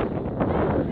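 Strong mountain wind buffets the microphone outdoors near a cafe, a dense, steady low rumble with no clear breaks across about a second.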